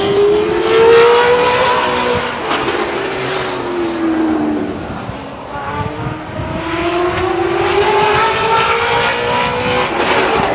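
A race car laps the Stockton 99 Speedway oval during qualifying, its engine rising and falling in pitch as it accelerates, lifts and comes around again, loud and near with a continuous roar and no talking.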